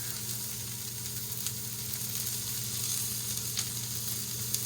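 Food for a sauté bowl sits untouched in a hot sauté pan and caramelizes, giving a steady close sizzle and crackle with a few sharper pops and no voices.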